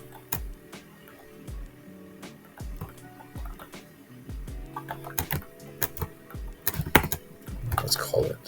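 Typing on a computer keyboard during 3D modelling work, irregular clusters of close key clicks over a quiet musical background, busier toward the end.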